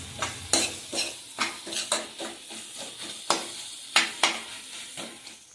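Ginger chutney being sautéed in a pan, with repeated scraping stirs of a spoon against the metal over a low sizzle, close and fairly loud, with no talking.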